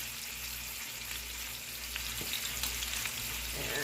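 Salted pork chops fry in a pan, a steady soft sizzle and crackle with occasional faint pops, heard alone without talk.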